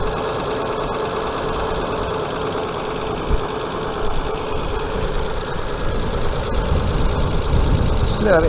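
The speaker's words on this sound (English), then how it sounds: "she's running. A little bit tappy because she needs an oil change." A Hyundai Sonata 2.7 V6 idles steadily up close, its lifters slightly tappy from overdue oil, giving a continuous engine drone with a fine ticking rhythm throughout.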